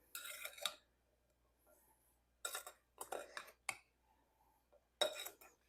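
A spoon stirring sugar, cornstarch and flavorings in a bowl, short scraping and clinking bursts separated by quiet pauses, close and clear in a home kitchen.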